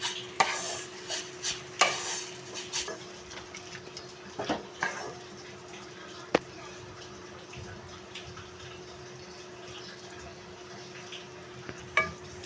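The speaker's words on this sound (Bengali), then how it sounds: "দিয়ে অনবরত নাড়তে হবে যেন না ধরে যায় তলা।" Papaya and sugar stirred continuously in a pan for papaya nadu, a faint scraping and soft swishing of a spoon with occasional sharper knocks against the pan, alone without talk.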